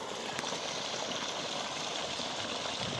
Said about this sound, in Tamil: வெயில் வர வர அதிகமாக ப்ரெஷர் தண்ணி வந்துனே இருக்குது.